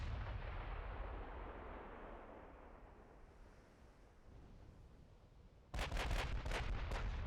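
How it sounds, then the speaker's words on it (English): Ammunition detonations aboard warships in the naval video game Ultimate Admiral: Dreadnoughts: a heavy, rumbling blast slowly fades, then a quick cluster of sharp, loud explosions bursts out near the end. "Ammo detonations going on."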